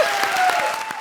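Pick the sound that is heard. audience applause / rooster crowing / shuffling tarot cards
audience applause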